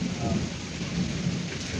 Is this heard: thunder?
yes